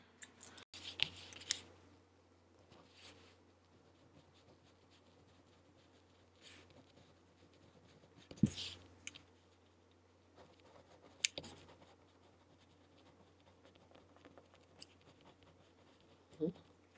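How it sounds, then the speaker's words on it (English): A pen writes on paper in a quiet room, faint scratching strokes in short bursts separated by pauses, close and soft with no talk. "I'll join you and write down some myself."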